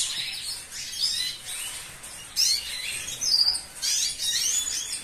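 Pet birds at a breeding aviary chirp and tweet continuously in a bright, busy chorus, several birds calling close together with no talk over them.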